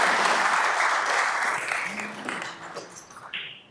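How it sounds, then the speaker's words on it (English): A city council meeting audience claps for an employee-of-the-year honoree, the applause starting strong and steadily fading out over a few seconds. "We could applaud again,"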